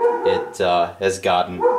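A dog barks and yelps several times in quick succession at close range, with someone speaking over part of it.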